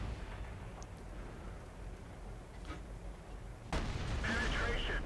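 Tank battle in World of Tanks with a Type 59 medium tank, a dull rumble of distant gunfire followed by a sudden loud shell impact near the end, with game noise underneath.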